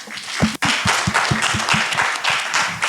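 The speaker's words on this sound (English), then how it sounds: "So I think we can clap for our panelists." A crowd applauds steadily, many hands clapping together in a loud, even patter, close and continuous.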